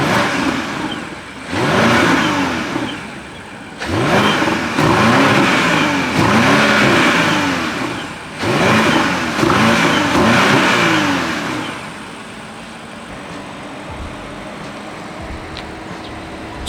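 BMW X6 M60i, a 530 hp family SUV, revved three times in a row, each loud, close engine surge rising and falling before settling back to a quieter idle.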